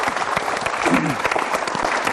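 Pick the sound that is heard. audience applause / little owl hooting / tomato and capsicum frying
audience applause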